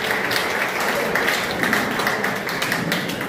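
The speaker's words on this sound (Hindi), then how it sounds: "तालियों की गड़गड़ाहट कर सकते हैं" Audience applause at a Patidar community education federation career counselling event in a village hall in Manawar, a steady dense wash of clapping throughout with no pauses.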